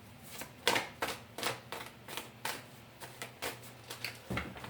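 Repeated riffling snaps of playing cards being shuffled, a quick burst after burst in a steady rhythm, close and fairly quiet with no talking.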